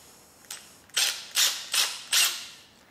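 Front fork of a 1990 Honda XLR250 Baja coming apart during a rebuild, giving a short series of four or five sharp metallic clacks and ratcheting clicks at a steady rhythm, close and clear with no talk.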